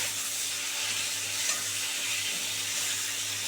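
Bhola fish fries in hot oil in a pan, producing a loud, continuous, broadband sizzle with light stirring noises and no talking.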